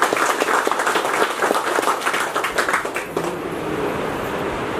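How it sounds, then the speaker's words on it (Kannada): An audience at a Rotary Club free eye operation camp claps steadily in a dense wash of applause that fades slightly toward the end. "ಚಪ್ಪಾಳೆ ಬರಬೇಕು."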